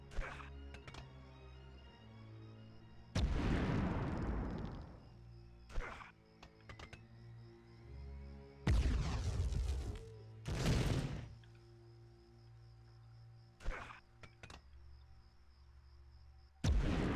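Grenade explosions in the Medal of Honor video game: three heavy, booming blasts, two of them close together near the end, over a steady in-game ambient bed with scattered smaller thuds.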